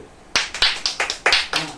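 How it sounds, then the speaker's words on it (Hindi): A short burst of sharp hand claps in an uneven rhythm, about eight claps in under two seconds, close and fairly loud, from children in a village. "ये ताली ताली ताली"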